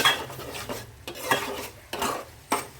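A metal spoon stirs dried goat meat in a pot, producing four or five distinct scraping clanks at an uneven rhythm over a light sizzle, close and fairly quiet, with no talking.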